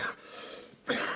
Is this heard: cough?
yes